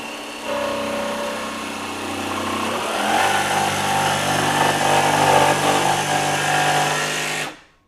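A RIDGID R86346B 18V sub-compact barrel-grip cordless jigsaw runs steadily and close up, its motor droning with a rapid reciprocating buzz that rises in intensity as the blade bites into the cut, then stops abruptly.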